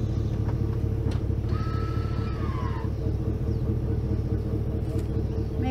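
Vehicle rolling slowly while backing a livestock trailer on a farm, a constant low engine and road rumble with a brief faint squeal partway through.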